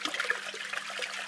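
Water pours from the spray bar of an Aqua One Nautilus 2700UVC canister filter, a close, continuous splashing trickle heard alone.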